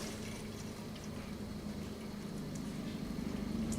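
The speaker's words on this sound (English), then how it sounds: "And now add the water." Water is poured into a one-gallon beer brewing batch with barley and hops, a continuous close splashing and gurgling fill that grows slightly stronger toward the end, with no talking.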